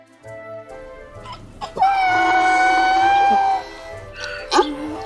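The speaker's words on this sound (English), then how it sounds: "Donkey." A donkey brays on a farm with a long, loud, sustained tonal call that falls away at its end, preceded by softer scattered animal noises.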